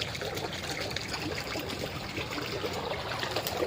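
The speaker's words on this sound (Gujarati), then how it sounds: "આમ પાણી ચાલુ છે અહીંયા અડદમાં" Irrigation water flows into a urad bean field, a steady, fairly faint trickling and gurgling that runs continuously without pause.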